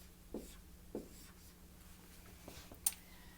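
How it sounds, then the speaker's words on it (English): Chalk or marker writing a number on a classroom board: a few separate scratchy strokes, close and fairly quiet, with short pauses between marks and a final sharp tap. "I'm going to write it on the board."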